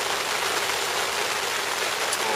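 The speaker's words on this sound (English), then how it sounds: "That's the rain. Falling on my window pane." Steady rain patters against glass in a dense, even hiss, close and continuous with no voices.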